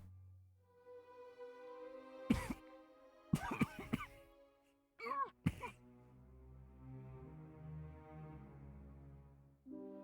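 A character in The Raven Remastered coughing: several harsh, raspy coughs and throat-clearing bursts come in two or three close clusters over a sustained tonal music bed, with quieter stretches between them.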